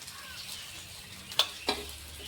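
Wheat flour dosa cooking on an oiled pan, a soft steady sizzle running throughout with two sharp clicks of a utensil against the pan near the middle.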